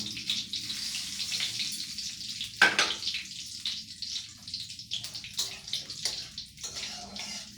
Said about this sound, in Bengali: ভালো করে বেশ করে লাল করে আমি ভেজে নিব জিরা